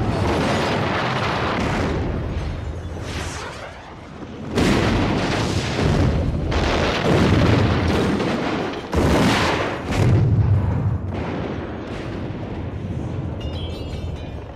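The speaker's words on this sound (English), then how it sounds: "they throw in a canister, a la sort of Jaws, and just sort of wait for the crescendo explosion" A canister explosion from the Maniac Cop film: loud, booming blasts and rumbling bursts follow one another over a dense, full-range roar, with strong impacts near 4.5 and 9 seconds.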